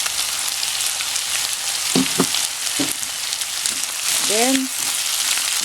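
Diced potato and carrot fry and get stirred in a pan for tortang giniling, with a soft steady sizzle and a few scraping stir sounds, while a voice briefly speaks over it.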